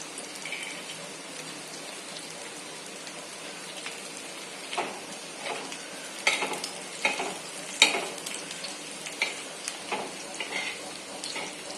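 Cashew slices roasting in a pan for sheer khurma, a soft continuous crackle and sizzle broken by sharper scraping stirs that grow more frequent toward the end, with no one talking.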